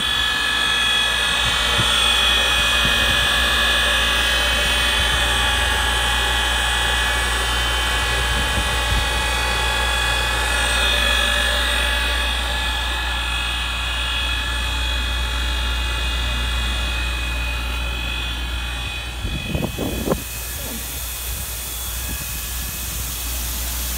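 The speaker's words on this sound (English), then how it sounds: "Here is the fume scrubber portion of FS2050 in operation. We'll zoom in on the pump here." A Viron FS2050 fume scrubber pump, part of a 10,000 CFM fume scrubbing unit, runs with a steady, loud mechanical drone and whine that holds throughout, with a few brief knocks near the end.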